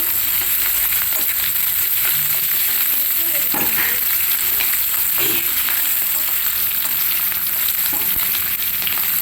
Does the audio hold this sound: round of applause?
no